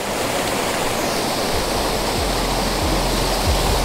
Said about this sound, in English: I want to get those rocks in as foreground interest with a waterfall prominent behind it